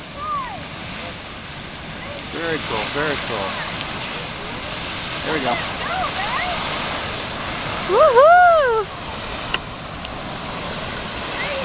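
Rocket and Grotto geysers erupt, sending up a steady roar of rushing, splashing water that fills the scene. Excited onlookers talk over it, and one lets out a whoop near the end.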